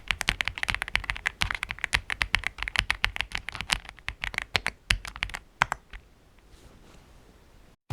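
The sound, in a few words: typing on EPOMAKER x AULA F75 mechanical keyboard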